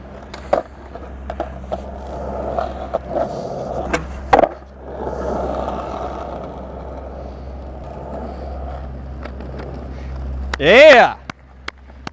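Skateboard wheels roll steadily on pavement with a few sharp clacks, then a brief louder rumble near the end as the board crosses a crack, while a person cheers.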